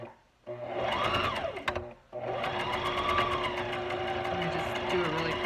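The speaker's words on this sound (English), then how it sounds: "I'm gonna do a zigzag stitch in it. So that's what I'm doing right now" A sewing machine runs steadily through a zigzag stitch, its motor whirring with a rapid mechanical chatter that briefly pauses and restarts, close and loud with no one speaking over it.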